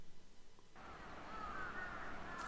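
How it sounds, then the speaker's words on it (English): Crows caw in a rough, faint chorus in an urban setting, a steady hoarse wash of calls rising after a quiet start. "This would be the group of birds known as crows and ravens, in other words, corvids."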